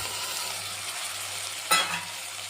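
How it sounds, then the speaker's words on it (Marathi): Potato pieces frying in hot oil for Latur-style Nilanga rice, a steady sizzle running throughout with one brief louder burst of spatter or stirring near the end, close and without talk. "आता लगेच याच्यामध्ये आपल्याला टाकून घ्यायचं आहे आलू।"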